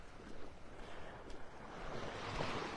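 Ocean waves wash onto a beach in North Naples, Florida, a soft continuous surf with some wind rumble, faint and distant throughout.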